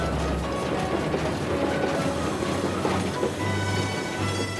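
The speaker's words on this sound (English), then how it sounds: "driving a train in this beautiful Cotswold countryside, it doesn't really get much better than this" A train running through Cotswold countryside, steady rumbling wheel noise with faint clickety-clack and mechanical rattles throughout, continuous and fairly close, no speech.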